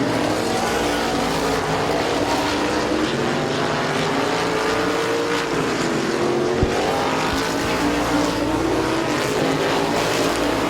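Race cars roar around the track at Midvale Speedway in a dense, continuous engine drone, pitches rising and falling as cars pass, loud and unbroken throughout.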